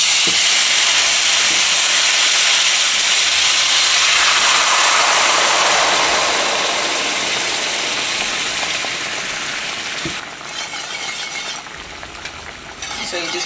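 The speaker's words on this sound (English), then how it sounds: "So we're going to add in our stock." Stock poured into a hot gravy pan hisses and sizzles loudly, the steamy rush gradually settling into a quieter bubbling simmer with occasional whisk clinks.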